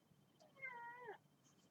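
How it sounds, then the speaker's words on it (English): A single cat meow, drawn out for about half a second and rising then falling, close and clear against a quiet background. "Meow, says my kitty."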